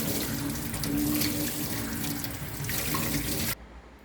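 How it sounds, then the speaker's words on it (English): Basil leaves being washed under a running kitchen tap, a steady close splashing stream that runs for several seconds and then cuts off abruptly near the end. "So let's wash our basil."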